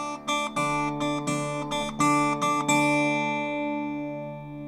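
Travis-style fingerpicked acoustic guitar carrying a melody with a swung triplet feel, sounding as lilting plucked notes over a steady bass, ending on a chord left to ring out, close-miked and without speech.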